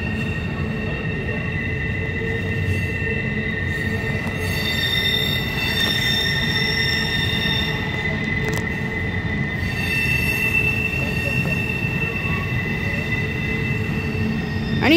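A freight train rolls past steadily on Horseshoe Curve, Pennsylvania, with loud, sustained metallic wheel squeal and a rumbling undertone throughout.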